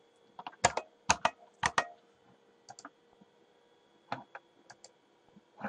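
Close, quiet keystrokes on a computer keyboard, a few quick clusters of clicks separated by short pauses, in an otherwise silent room.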